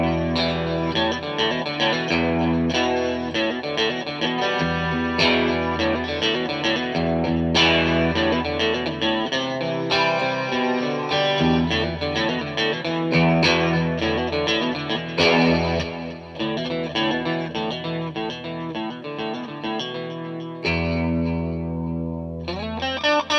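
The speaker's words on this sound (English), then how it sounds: "So there you go, some pretty lovely clean tones there." Electric guitar through a Fender Mustang III amp on an unchanged preset, bridge and middle pickups combined, plays clean chords and notes with chorus-like shimmer and reverb, steady and loud throughout, no talking.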